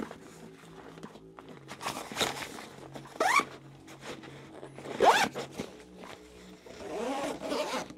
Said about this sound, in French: des poches. Voilà, avec des fermetures éclair.